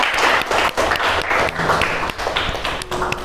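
Classmates applaud after a classroom presentation, a brisk crowd of hands clapping close by in uneven waves, with a brief dip near the middle before the clapping picks back up.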